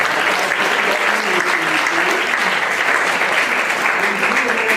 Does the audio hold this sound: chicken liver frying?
no